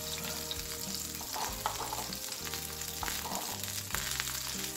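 Butter heating in a pan on lowered heat sizzles steadily, a dense, continuous frying crackle close up with a few stirring scrapes and clinks mixed in, no voices.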